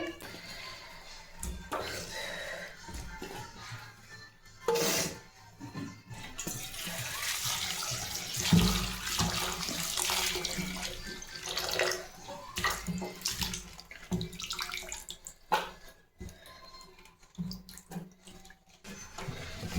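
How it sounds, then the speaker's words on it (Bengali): Tap water runs and splashes while potatoes are washed, with uneven bursts of flow and rinsing noises up close and a voice talking briefly in the background. "এই যে আলুগুলাকে ধুয়ে নিয়েছি"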